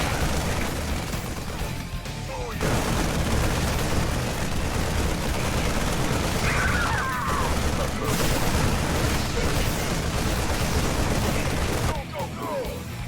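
Rapid gunfire and bursts from units fighting in the real-time strategy game StarCraft, a dense, continuous battle din with layered shots and pops throughout, loud and busy, with a brief lull near the start and end.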